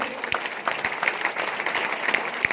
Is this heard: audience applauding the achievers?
yes